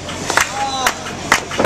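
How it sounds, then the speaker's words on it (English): Wrestling crowd at a Florida indie show cheering and shouting in short bursts, several loud yells rising over a steady murmur of the audience. "Crowd now getting behind O'Toole."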